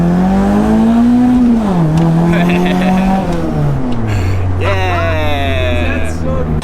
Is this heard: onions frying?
no